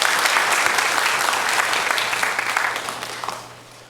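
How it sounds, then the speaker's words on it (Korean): A church congregation claps together during a Sunday morning worship service, a full, loud burst of applause that gradually thins and fades toward the end. "하나님께 영광의 박수 올려드리겠습니다."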